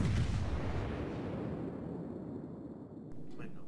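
The guns of a battleship, a North Carolina or a Bismarck in World of Warships, fire a heavy salvo with a deep booming blast that rumbles and slowly fades, then a short sharper noise near the end.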